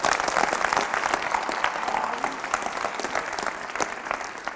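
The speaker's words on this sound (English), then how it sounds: "Round of applause." A school leadership gathering applauds a student, with brisk clapping from a room full of people that starts strong and gradually thins out, without any talking over it.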